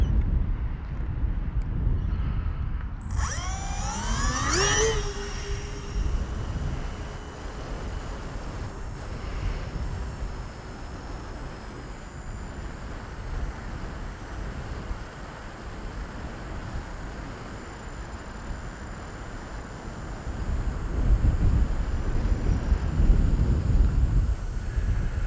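A Sonic Modell Binary fat-wing RC plane flies in gusty wind, its electric motor whining with a quick rising and falling pitch sweep early on, then droning steadily under heavy wind buffeting on the microphone.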